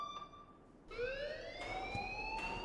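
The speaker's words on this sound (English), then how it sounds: "please turn off that alarm since that's your job" An alarm in the video game Life is Strange sounds: a faint tone at first, then a loud, steady electronic wail whose pitch rises gradually and keeps ringing without a break.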